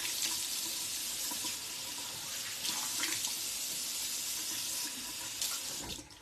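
A bathroom tap runs steadily into a sink while a face is rinsed, a continuous close hiss of flowing water with small splashy shifts, no voices over it.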